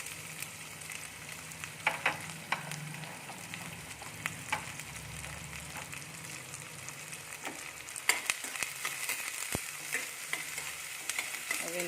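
Cumin, green chilli and onion hit hot ghee, with a low steady sizzle under intermittent clinks and scrapes of a spoon against the pan, close and without talk.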